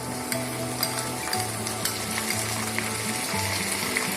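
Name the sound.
onion paste frying with browned onions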